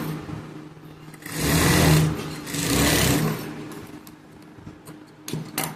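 A sewing machine stitching a blouse sleeve runs in two whirring bursts of about a second each, moderately close, with quieter handling noise between and after the runs.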